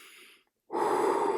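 Breathing during a handstand push-up focused workout: a short exhale fades out, a brief pause, then a loud, close, sustained breath in.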